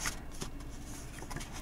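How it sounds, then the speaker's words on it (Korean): Tarot message cards being shuffled and drawn, a quick papery riffle with soft slaps and rustles, close and alone. "여러분들을 위한 메시지 카드 한번 뽑아보도록 할게요."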